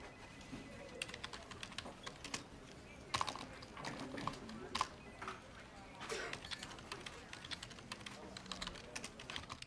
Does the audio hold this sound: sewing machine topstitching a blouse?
no